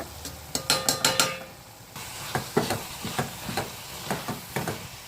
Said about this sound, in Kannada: ಇದು ಸ್ವಲ್ಪ ಎಣ್ಣೆಲಿ ಚೆನ್ನಾಗಿ ಫ್ರೈ ಆಗಲಿ.